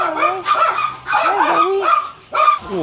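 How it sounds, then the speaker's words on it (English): A small dog at a residential home in the Philippines gives several close, loud yipping barks in short bursts with brief whimpering tones, with pauses between them. "Oh, he's looking to bark."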